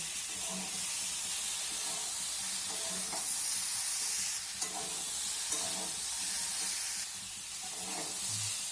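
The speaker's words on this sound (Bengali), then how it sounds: "এবার সব কিছু একসঙ্গে আরও বেশ কিছুক্ষণ আমি এইভাবে কষাতে থাকবো।" Fried ridge gourd being stir-fried with spices in a pan, a continuous loud sizzle and hiss with repeated scraping and stirring strokes against the pan, close by and steady.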